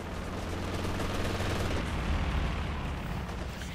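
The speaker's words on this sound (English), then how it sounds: "we got here a strafing run called in now" Strafing-run gunfire in the real-time strategy game Company of Heroes 2, a dense, continuous barrage of rapid shots and rumbling booms lasting throughout at steady loudness, with no talk over it.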